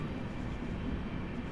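The Sealdah–Jalpaiguri Road Humsafar Express runs along the track with a steady, even rumble and hiss heard from on board, constant throughout with no voices.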